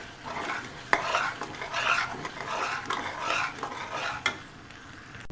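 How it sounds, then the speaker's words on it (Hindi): Pearl millet chutney with green chillies and coriander stir-fried in a pan, a steady scraping of the spoon in repeated strokes over a low sizzle, close and clear with no talk. "अब हरी मिर्च और हरा धनिया डाल के मैं इसकी भुनाई करूँगी।"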